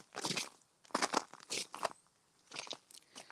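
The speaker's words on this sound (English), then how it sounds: "Crunchy. It's all ice." Footsteps crunch over icy ground on a walk through ancient woodland, several loud crisp crunches in an uneven walking rhythm, close by with no talking.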